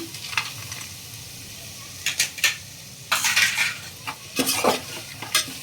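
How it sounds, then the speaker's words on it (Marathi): Peas and peanuts go into a hot pan for spicy matar rice and get stirred, producing a near, loud sequence of spoon scrapes and clinks against the metal over a soft background sizzle, with no talk. "आता मटार घालून घेऊया आपण. मटार आणि ही शेंगदाणे."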